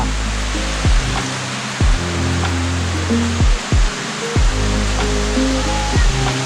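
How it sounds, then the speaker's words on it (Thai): Silver Waterfall in Sapa, Vietnam, roars as a steady, loud wash of falling water on a foggy day, with a few low thumps breaking through the constant rush. "ถึงแล้วนะครับน้ำตกซิลเวอร์วอเตอร์ฟอลของซาปา"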